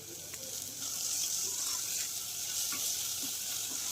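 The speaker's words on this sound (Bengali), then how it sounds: "আদা রসুন বাটাটা দিয়ে দিলাম এবং সেটা দিয়ে বেশ ভালো করে আরও নেড়ে নিচ্ছি" Ginger garlic paste fries and is stirred in a pan while cooking a white rajma curry, giving a steady close sizzle with faint utensil scrapes throughout.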